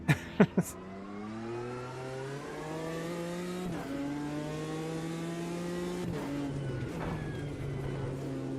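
A BMW M4 GT4 race car engine in the racing game Automobilista 2 at Laguna Seca roars and revs through climbing gear changes, a high, buzzy drone with brief dips between shifts, steady and close.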